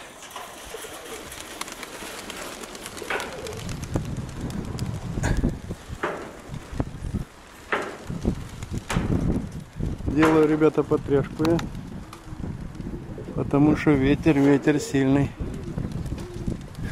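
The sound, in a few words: strong wind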